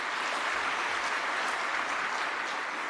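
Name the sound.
audience applause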